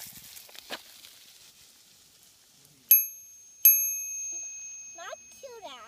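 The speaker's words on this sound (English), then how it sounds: "Can you ring your bell for me?" A bicycle bell rings twice, bright and close, each ring lingering briefly, with soft rustling before and a voice afterward.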